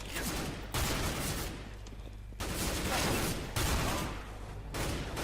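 Counter-Strike: Global Offensive gunfire rattles in loud, dense volleys that start and stop every second or so, with near-constant game noise between bursts.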